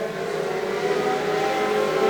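Legend Cars race at Augusta Margaret River Speedway, their engines forming a steady, loud, buzzing roar at high revs with no speech over it.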